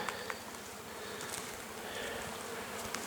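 Honeybees circle near a small hive beside flowering rapeseed, and their steady, dense buzz fills the air at moderate loudness, with no voices.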